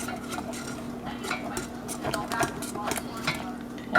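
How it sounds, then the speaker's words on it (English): A cheese mix stirred in a pot, with repeated close scrapes and light knocks of a utensil against the pot in a steady rhythm, over a faint hum. "I will mix this first. The cheese mix,"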